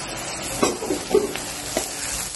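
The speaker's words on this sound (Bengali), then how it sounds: "কাঁচা লঙ্কা ঢেলে ওইটাকেও ভাজতে হবে, একদম লাল করে একটু ভাজতে হবে" Green chillies fry in hot oil with browned onions, a close, steady crackling sizzle with a few louder spatula scrapes and pops spread across the moment.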